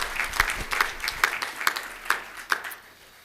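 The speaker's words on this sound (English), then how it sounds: "Let's applaud Juan here" Sparse, scattered hand claps from a small audience at a city employee service awards ceremony, about eight distinct claps in an uneven rhythm that thins out toward the end.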